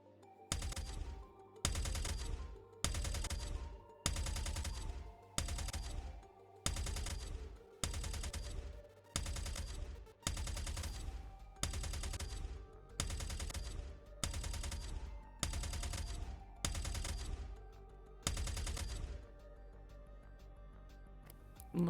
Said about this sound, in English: Live fire calibration.